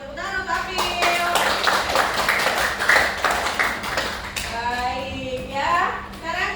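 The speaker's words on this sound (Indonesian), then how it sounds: "tepuk tangan untuk April" A class of schoolchildren claps for a classmate, a loud ragged burst of hand claps that carries on for several seconds while a teacher's voice and children's chatter sound over it.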